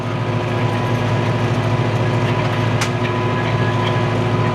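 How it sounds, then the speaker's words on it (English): Tractor engine running steadily while being ridden on a farm, a loud continuous low rumble with rhythmic vibration and no break, heard close up with no talking. "Don't you guys feel like you're driving the tractor"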